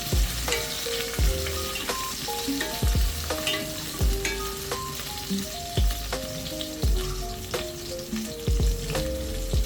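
Garlic, ginger and chili sauté in a hot pan, a steady close sizzle broken by repeated clinks and scrapes of a spatula stirring at an uneven rhythm.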